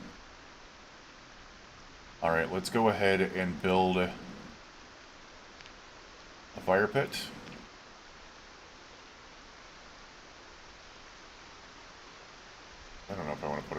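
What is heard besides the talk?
rain in video game Project Zomboid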